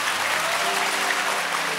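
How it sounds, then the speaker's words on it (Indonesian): A Christmas church congregation applauds, a continuous wash of many hands clapping at even strength, with a faint steady tone running underneath. "Ya, tepuk tangan dong, cinta luar biasa."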